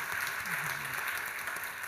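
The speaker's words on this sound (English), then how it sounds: "that's worth applause and acknowledgement" Applause from an audience at a talk on artificial intelligence and humanity: a steady, even wash of many hands clapping, moderately distant, with a brief voice faintly underneath.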